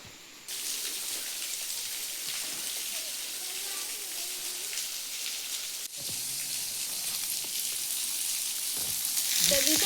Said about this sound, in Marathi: इथं पाऊस पाणी पडतंय म्हणून